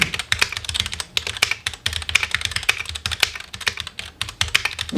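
Rapid keystrokes on a customized Ducky ONE 2 MINI mechanical keyboard fitted with quieter switches, a dense, steady clatter of soft close-up clicks and thocks with no talking.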